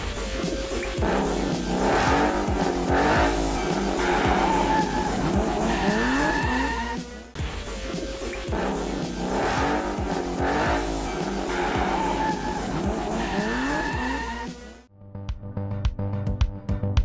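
Nissan 370Z race car skidding with long screeching tire squeals over a roaring, revving engine, loud and sustained for about fifteen seconds before cutting to a quieter, different engine passage.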